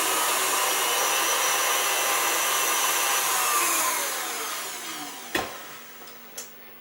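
Electric mixer beaters running in cake batter, a loud steady motor whir that winds down and stops, followed by a couple of sharp knocks.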